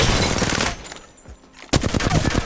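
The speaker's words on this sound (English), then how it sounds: "go ahead and focus on those hip fire shots" Submachine gun hip fire in Apex Legends: two loud bursts of rapid automatic shots close up, split by a short quieter gap before the second volley cuts in.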